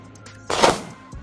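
A single close, loud gunshot during firearms training, sharp and alone, with a brief faint follow-up noise after it.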